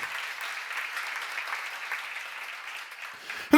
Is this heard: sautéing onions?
no